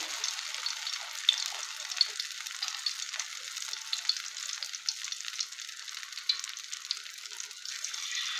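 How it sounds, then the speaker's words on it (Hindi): Egg potato cutlets shallow frying in hot oil give a steady, bright sizzle with small crackling pops, heard close up with no voices. "इनको हमने शैलो फ्राई कर लेना है"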